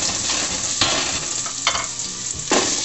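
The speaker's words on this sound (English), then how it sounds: "We're going to get the garlic going here." Garlic sizzles in a hot pan with a constant crackling hiss, punctuated by a few sharper stirring scrapes, close and loud with no talk.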